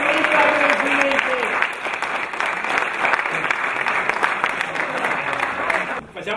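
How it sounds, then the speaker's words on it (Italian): Crowd applauding the club president at a motorcycle club's 50th anniversary celebration, loud sustained clapping with voices and shouts mixed in, dropping briefly near the end. "Un applauso al nostro presidente."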